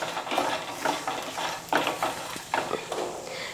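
Urad dal fries over a medium flame while a spoon stirs it around the pan in repeated scraping strokes about every half second, close and moderately loud over a low sizzle.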